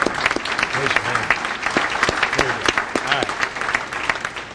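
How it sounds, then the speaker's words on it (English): Audience applause at a city's State of the City address fills the room, sustained and fairly loud for several seconds, with a voice speaking over the clapping. "please applaud for them if you wouldn't mind"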